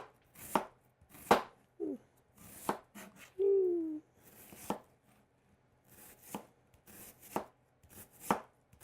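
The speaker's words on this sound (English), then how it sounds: "I'm going to go ahead and I'm going to slice down some red onion." A knife slices through a red onion on a cutting board in about a dozen sharp, close chops with short gaps between them. A brief tonal squeak is heard partway through.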